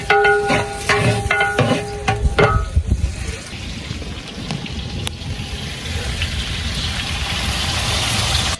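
Onions fry in a large pot for a 12 kg batch of chana pulao. There is a steady, close sizzle and hiss that builds over time, preceded by a few stirring clanks and tonal metallic rings at the start.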